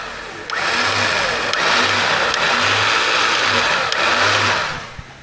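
A vehicle-mounted winch drum spinning under light load on an off-road outing, a steady loud motor drone with a rhythmic pulsing whine lasting several seconds before easing off.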